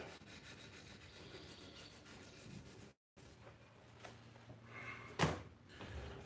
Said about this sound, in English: And that's a clean 240 grit on the blade.